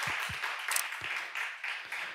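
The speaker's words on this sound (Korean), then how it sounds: "다 같이 한 번에 박수 칠 거예요" A church congregation gives a short round of applause for members' birthdays, a dense, steady wash of clapping heard from a moderate distance.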